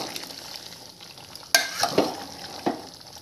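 Vegetables and chicken cook in a pan over low heat for biryani, with a soft, steady sizzle. Several sharp scrapes and clatters come as the mixture is stirred, loudest in the second half.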